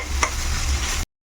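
Chopped ivy gourd sizzling in a pan with curry leaves, coriander and turmeric, a steady close hiss with one brief stirring scrape near the start, then cutting off abruptly.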